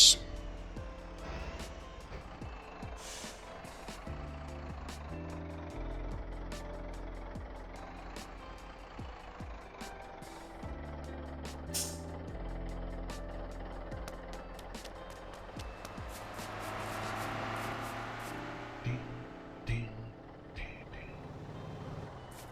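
A truck reverses with a steady, repeating backup beep over its engine rumble at a construction depot in the driving game Motor Town, with someone talking throughout.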